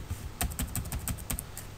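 Quick, light tapping of keys on a computer keyboard while entering a web address in a browser, close and clear with a brisk irregular rhythm.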